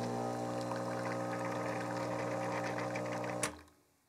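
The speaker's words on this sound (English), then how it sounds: "And here is the Silvia." A Rancilio Silvia espresso machine's vibration pump hums steadily at a loud, even level with a dense buzzing drone, then cuts off abruptly near the end and fades into quiet.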